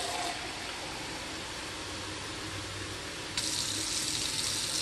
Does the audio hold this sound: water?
yes